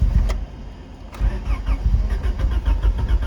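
A turbo Honda B18 engine cranks over and tries to start, two brief starter bursts followed by a rough, uneven churning that never settles into an idle, heard close and alone.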